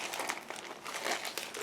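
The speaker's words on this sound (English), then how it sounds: "And now I'm opening this plastic bag." A plastic bag from a Trumpeter 1/35 E-50 Flakpanzer model kit being opened, a dense run of close crinkling and rustling that lasts just under two seconds, with no talk.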